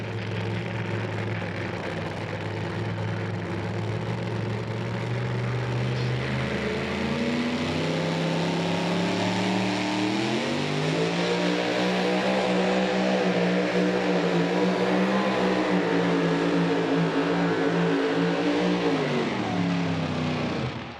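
A super modified two-wheel-drive pulling truck roars at full throttle during a truck and tractor pull in Farley, Iowa, loud and sustained, its pitch climbing and wavering before the engine note drops near the end.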